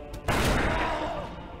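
A single aimed gunshot in the video game Darkest Dungeon: a sharp, loud blast that rings out into a sustained roaring decay, alone with no talk.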